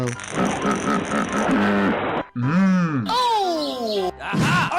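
Hippo grunting in a cartoon animal game: deep, voiced grunts and groans with sliding pitch, several loud calls in a row, close and prominent over other game sounds.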